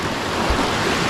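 Steady, loud rushing of diverted mill water flowing under a bridge, a continuous broadband wash, with no voices.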